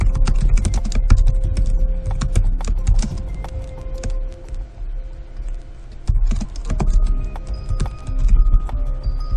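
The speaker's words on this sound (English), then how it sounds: "I'm just gonna type in something random." Rapid, uneven clatter of keys on a computer keyboard, bursts of close clicking separated by a short pause in the middle.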